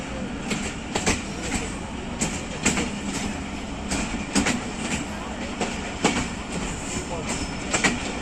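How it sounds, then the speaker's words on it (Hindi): Jaffar Express passenger train rolling from a loop line onto the main line, a steady rumble with periodic clicks and clacks of wheels crossing rail joints and points, heard from aboard. "ये अब लूप लाइन से आ रही है जी मेन लाइन पर ट्रेन।"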